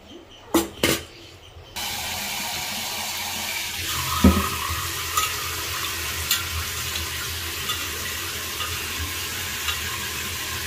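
Grain being washed in a bowl of water for an Ekadashi fast dish, a steady close wash of swishing and trickling water with a few sharp knocks near the start.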